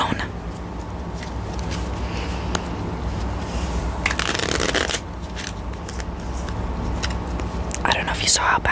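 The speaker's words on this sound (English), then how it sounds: "I don't know if you saw how bad that shuffle was, but none of the cards got shuffled." Playing cards are shuffled close to the mic during a quiet game of Solitaire, with two short, crisp riffling bursts over a soft, steady background.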